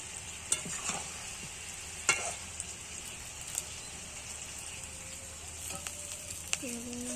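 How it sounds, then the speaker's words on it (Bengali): Country chicken curry with potatoes being stir-fried: a faint, steady sizzle runs throughout, broken by occasional soft spatula scrapes and clicks against the pan. "ভালো করে কষিয়ে নিচ্ছি আলুগুলোও দিয়ে দিয়েছি"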